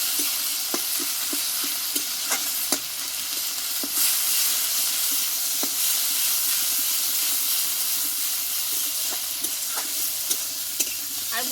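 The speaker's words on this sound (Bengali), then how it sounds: "পেঁয়াজটাকে ভালোভাবে আমি পাতা বাটাটা এইভাবে ভেজে নেবো" Onion frying with ground ash gourd leaf paste in hot oil: a steady, close sizzle and hiss with repeated sharp clicks and scrapes of a spatula stirring throughout, with no talk.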